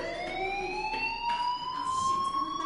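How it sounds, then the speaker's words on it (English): A school fire alarm in the video game Life Is Strange sounds as a steady electronic tone with rising pitch, loud and continuous with no talk over it. "Hey, do you hear that fire alarm?"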